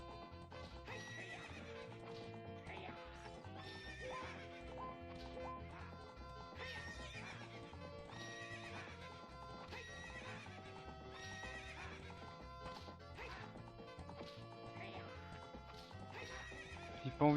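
In The Legend of Zelda: Ocarina of Time, a horse whinnies and its hooves clatter amid a dense, busy layer of game sound, continuous and moderately loud throughout.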